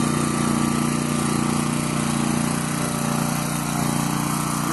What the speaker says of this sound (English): there's a robot that welds the seams together